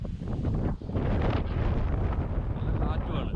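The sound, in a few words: strong wind on a hilltop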